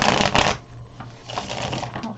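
Tarot cards are shuffled by hand in quick riffling bursts, one strong flurry followed by softer rustles, close up, with a voice speaking partly over them.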